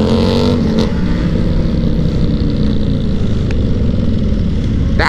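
Motorcycles at a bike night roar loudly nearby as they launch and accelerate hard together, a dense continuous engine howl with a sharp rev at the start.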